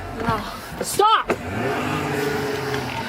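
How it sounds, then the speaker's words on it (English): A car pulling away during a shoplifting chase, with a close engine surge and a steady motor rumble that continues afterwards, while people shout over it. "she's trying to take off in her car"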